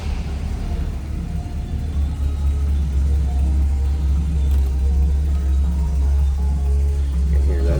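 A 1975 Cadillac Eldorado, stored indoors and in great shape, idling with a deep steady low rumble that holds even throughout, close and loud with no other sound on top.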